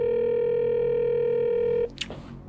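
A telephone dial tone hums steadily for nearly two seconds while a call is being placed, then cuts off abruptly, followed by a few faint clicks.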